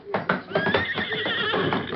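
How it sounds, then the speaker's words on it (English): A horse whinnies loudly and close by in an Old West setting, a long shrill neigh over about two seconds with a few hoof clip-clops beneath it. "Get that horse out of here."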